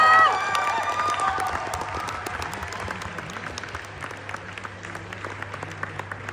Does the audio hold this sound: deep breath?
no